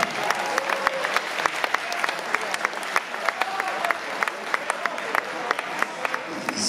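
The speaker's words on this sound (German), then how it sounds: "Applaus nochmal für die beiden Fighter" Sustained applause from a crowd at a fight night, likely kickboxing, after a 70 kg title bout, steady clapping throughout with sharp individual claps and scattered shouts punctuating it.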